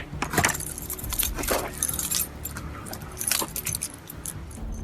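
A set of keys is snatched up and jangles loudly in quick, close bursts at a campsite at night, with a low car-like rumble underneath.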